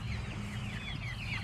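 A flock of chickens raised for meat clucks and chatters continuously nearby, a busy flock sound with a steady low hum underneath.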